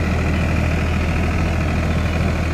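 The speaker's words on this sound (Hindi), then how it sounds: "फार्म ट्रैक चैंपियन देखिए 7 फिटा रोटावेटर आसानी से चला रहा" Farmtrac Champion Plus tractor, around 42–45 HP, driving a 7-foot rotavator, with a steady loud engine drone and churning rumble running continuously without break.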